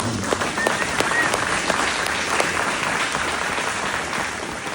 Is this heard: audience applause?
yes